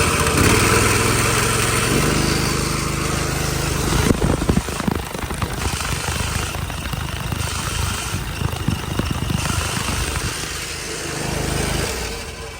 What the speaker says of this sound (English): I will run the machine and I'll let you listen to this scrubbing noise.